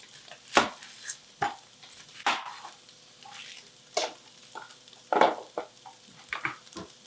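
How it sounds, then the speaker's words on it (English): A knife cuts through half an onion in a home kitchen while vegetable curry is being made, sharp chopping strokes landing irregularly and fairly close, with faint background hiss. "Okay, meantime, cut up my onion. I need 1/2 sliced onion."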